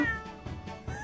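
A cat meows in The Great Ace Attorney video game, a few short close meows in succession over a soft background, with no talking.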